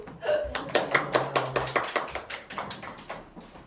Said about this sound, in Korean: 자, 작가님 한번 박수